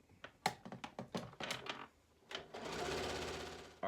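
A sewing machine runs stitching fabric ribbon strips against a quarter-inch guide foot, opening with a string of short tapping bursts, then settling into one steady, close, continuous run.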